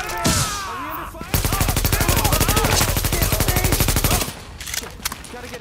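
Sustained automatic gunfire in the Tom Clancy's The Division video game, a rapid, loud burst of shots lasting several seconds after a single earlier shot, with a voice speaking briefly over the action.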